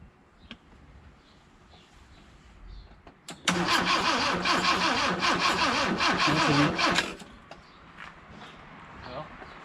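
A car engine cranks over repeatedly with a fast, rhythmic churning for a few seconds without catching, then stops; faint voices and movement before it.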